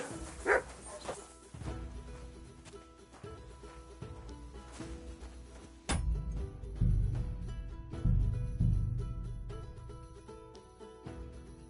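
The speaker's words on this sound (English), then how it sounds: "You silly doggy." A dog in Kingdom Come: Deliverance II barks in scattered bursts amid game ambience, sharper early on, then heavier, fuller barks toward the end.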